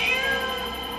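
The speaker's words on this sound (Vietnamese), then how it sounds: "Chỉ là tiếng mèo thôi." A cat meows loudly and clearly at night in a quiet house, a drawn-out wavering cry that fades slightly, heard alone without talk.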